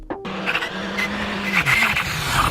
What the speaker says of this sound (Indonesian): mobil rally, kok bisa ngebut kayak gitu? Dengan suaranya yang luar biasa mantap.